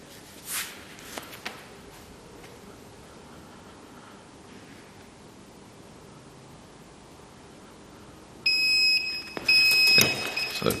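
A heat press used for sublimating 8-inch plates gives off a shrill electronic timer alarm, a loud steady beeping that starts near the end after a long stretch of quiet machine hiss and a few light knocks.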